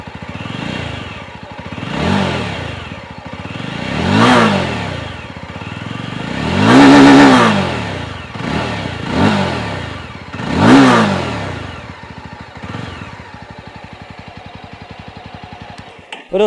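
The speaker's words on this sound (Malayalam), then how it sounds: "പിന്നെ നമുക്ക് എക്സോസ്റ്റ് കേൾക്കാം." A Yezdi Roadster motorcycle revs repeatedly through its exhaust, several sharp throttle blips rising and falling over a steady rumbling idle, close and loud with no talking.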